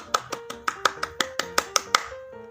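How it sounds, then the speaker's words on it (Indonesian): A small group in a second-grade classroom claps in a steady rhythmic pattern of about ten sharp, evenly spaced claps, with a sung or chanted tone running beneath them. "Ayo kita berikan tepuk tangan"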